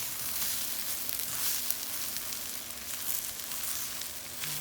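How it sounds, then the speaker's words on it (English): Shrimp fried rice sizzles in a pan with a steady, bright hiss and faint crackles, heard close and alone without talk. "Stir it up one more time. Make sure everything's cooking in there."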